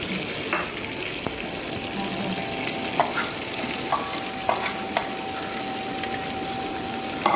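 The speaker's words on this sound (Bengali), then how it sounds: "পেঁয়াজ আর কাঁচামরিচ দিয়ে দিলাম, হালকা একটু ভেজে নিব।" Onion and green chilli fry in oil in a wok, giving a continuous, fairly soft sizzle with occasional faint clicks and taps from the utensil.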